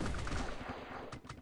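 Missiles firing in the mobile game 砰砰法師 (Bang Bang Mage), a quick run of low booming blasts in close succession, loud and alone.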